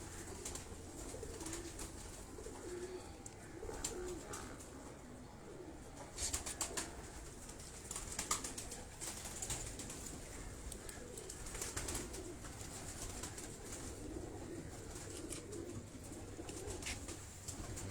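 Pigeons coo softly and steadily in a breeder's loft among fancy breeding and flying birds, with low repeated calls, occasional wing rustles and a faint background hum.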